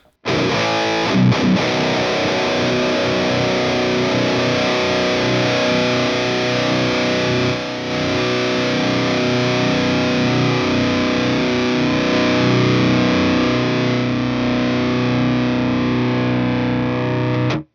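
Electric guitar played through a pedal on its rock reverb setting, a loud and sustained wash of chords with a long, smeared tail that stays steady and unbroken throughout, with no voices.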